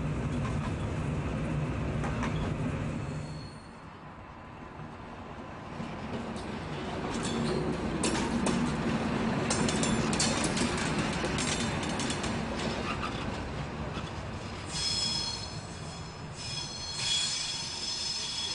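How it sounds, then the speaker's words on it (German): A V180 (class 118/228) diesel locomotive shunting in a rail yard gives off loud, piercing wheel squeals over a rumbling rolling train, with the shrill screeching swelling and fading throughout. "Lok 205 rangiert vor die nächste Übergabe."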